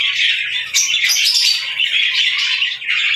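A green-cheeked conure squawks loudly and close in a breeding aviary, a harsh, continuous run of shrill calls with brief dips, alone without talk.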